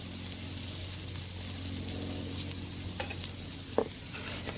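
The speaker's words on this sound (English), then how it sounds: "I'm just gonna kind of spread it all out. Spread it all out on the grill like that." Smashed potatoes spread across a Blackstone 17-inch griddle give off a quiet, steady sizzle with faint crackles and one brief clink of a spatula.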